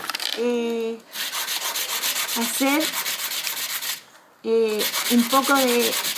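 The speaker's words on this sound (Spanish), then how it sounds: "le vamos a colocar un poco de lija al contorno para que nos quede suavecito" Close, rhythmic back-and-forth sandpaper scraping along the edges of a mosaic piece in two bursts separated by a short pause, with a voice speaking briefly.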